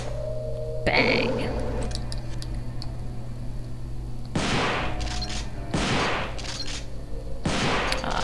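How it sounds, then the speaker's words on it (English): A shotgun fires in the video game Devil May Cry: three loud, sharp blasts spaced a second or so apart over a steady backdrop of game sound, with an earlier softer burst of effects. "Shotgun's fun to switch to every now and then."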